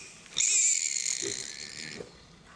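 A pig in a vaccine experiment on sows and newborn piglets lets out a sustained high squeal of about a second and a half, fairly close, with a few faint grunts and snorts around it.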